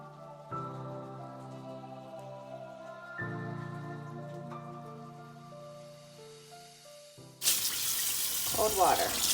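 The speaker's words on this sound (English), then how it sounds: "then we're gonna rinse the turkey, let it dry, and then they'll be ready for baking" Tap water runs into a kitchen sink to rinse a brined turkey, with steady flow and harmonic tones, then a louder broad splash near the end as the stream hits the bird or basin.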